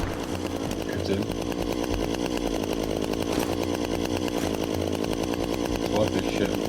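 A chainsaw revs steadily in the survival video game DayZ, a continuous buzzing engine drone with a rapid rattling chain texture running at even, moderate loudness throughout, without pauses.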